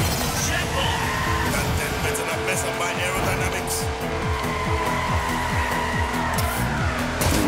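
Game car drifting in the arcade racer Hotshot Racing, a steady loud engine drone with a continuous tire squeal running throughout, layered with game effects and someone talking over it.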